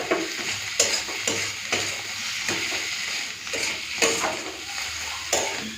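Flat bean paste with coriander leaves is stirred in a hot pan, giving a continuous sizzle with regular scraping and clinking strokes of a spatula against metal, close and clear, no speech.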